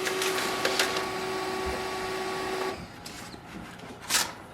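A Canon imageCLASS LBP122dw laser printer runs a page, a steady mechanical whir with a faint whine that stops partway, followed by soft clicks and a brief rustle of paper.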